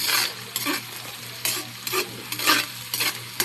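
Aromatics sautéing in a hot pan before meat goes in for sinigang, with an oily sizzle under repeated bursts of stirring and scraping roughly every half second, close and with no talk.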